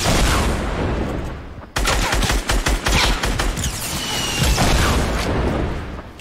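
Video game gunfire from an AK rifle: a dense burst of rapid automatic shots rattles loudly, then a brief gap, then a second longer stretch of heavy shooting.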